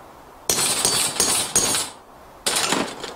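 A hammer strikes a chisel into wet leather set on an anvil-like block, giving four sharp, close blows with ringing tails separated by short pauses, and no one speaking.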